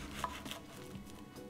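A knife slices a crispy fried combro in half, making quick crunching, cracking sounds over soft kitchen noise, close and fairly quiet.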